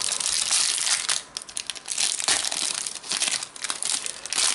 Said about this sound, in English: Let's get this packet of cards open